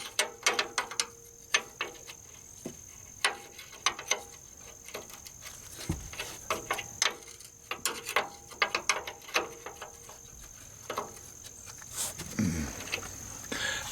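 A ratchet undoing bolts on a Toyota Tundra, close and metallic, with rapid clicking bursts repeating in uneven runs and short pauses between strokes, one louder clunk partway through.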